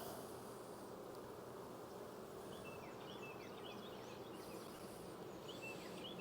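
A hive of honey bees, freshly smoked, gives off a steady, dense buzzing drone that holds evenly throughout, faint and distant, with no voices over it.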